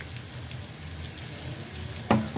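Cumin and coriander powder frying with pumpkin in a pan for a Bengali pumpkin dish, a steady soft sizzle throughout with a brief louder clatter near the end.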